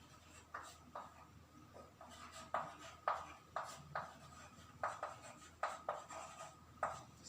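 Chalk or marker strokes on a classroom board come as short scratchy bursts in an irregular rhythm, each a quick rub or tap. They are faint and close, with no talk over them.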